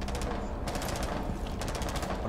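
Rapid bursts of automatic gunfire from Rainbow Six crackle in quick rhythmic volleys, with short pauses between them, like game audio.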